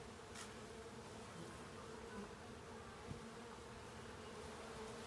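Many honey bees in a hive hum in a low, steady drone, close and continuous, with no talking.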